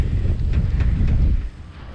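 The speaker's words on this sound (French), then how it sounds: "Quand il y a un vent de sable comme aujourd'hui, c'est appréciable." Sandstorm wind in the Mauritanian desert blows as a steady, heavy rumbling roar buffeting the microphone, with gusting hiss on top, then drops slightly toward the end.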